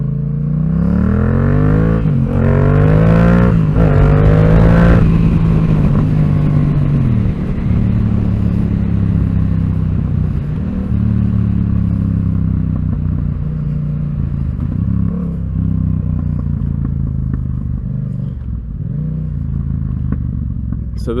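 A Yamaha MT-07 motorcycle is ridden up close, its engine droning loudly and steadily, rising in pitch with a few throttle surges and gear changes, then settling into a cruising hum.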